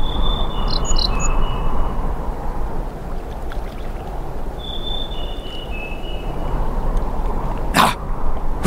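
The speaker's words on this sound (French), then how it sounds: "C'est le chant du Merula Alba." The rare Merula Alba bird in the video game Syberia 2 sings two short, thin, whistling phrases over a steady bed of insect-like ambience, with a brief sharp noise near the end.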